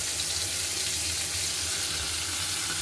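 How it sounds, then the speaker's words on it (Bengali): Spice paste, potatoes, onions and tomato stir-frying in a pan for rui fish curry, a steady close sizzle with low rumbling underneath and no talk. "মশলাটা দিয়ে ভালো মতো সব কষিয়ে নেব, যতক্ষণ না মশলার কাঁচা গন্ধটা চলে যাচ্ছে ততক্ষণ কষিয়ে নিতে হবে।"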